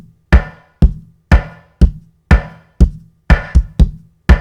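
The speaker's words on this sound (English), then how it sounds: "Here's the kick snare and the throw snare on the chorus." A dry kick and snare pattern hits in a steady groove, each hit sharp and close. Occasional snare hits carry a longer reverb tail, thrown onto the chorus of a song built from one instrument and one mic.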